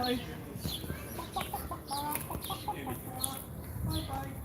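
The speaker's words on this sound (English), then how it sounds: "Who doesn't like a good old chicken farm?" Chickens cluck in short repeated calls at a chicken farm in the Los Angeles Arts District, moderately close against outdoor background noise.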